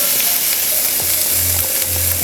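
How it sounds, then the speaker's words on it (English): Onions sautéing in hot oil in a pan, a steady loud sizzle that runs throughout with a few faint clinks of a utensil, no voices. "we're going to saute these onions for about 2 to 3 minutes or so until they start getting brown"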